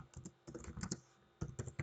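Typing a command on a computer keyboard, soft close key clicks in quick bursts separated by short pauses, quiet and alone.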